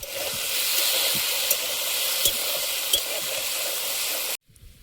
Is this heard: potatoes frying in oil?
yes